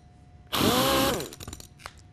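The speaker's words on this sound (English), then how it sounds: "Let me try the one-finger test with the Model 890 sander." A Sioux Model 890 sander bursts on with a loud, high whine for under a second, then winds down into scattered clattering and rattling knocks as it jumps against the surface.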